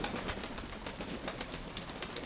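Pigeons coo softly and faintly at a distance, with light flutters and rustling amid a steady outdoor hiss.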